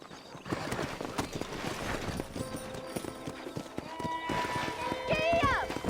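Hooves of a galloping horse in the western video game Red Dead Redemption, a steady rapid clatter close by and fairly loud, with game music or voices underneath and a whinny near the end.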